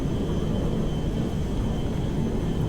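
An Airbus A318 airliner flies in a modded GTA 5 video game, giving a steady, even engine roar and rumble that holds constant throughout with no pauses.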